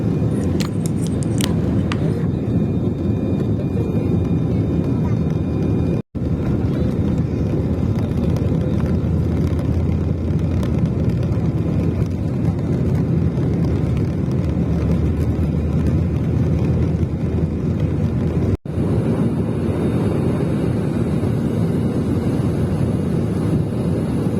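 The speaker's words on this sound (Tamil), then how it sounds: "ஸோ நம்ம ஃப்ளைட்டு வந்துட்டு இப்போ டேக் ஆஃப் ஆக போது" An Air India Express airliner taking off on a Bangalore to Chennai flight, a loud, steady low engine roar with rushing noise heard from inside the cabin, continuous for over twenty seconds with no talk.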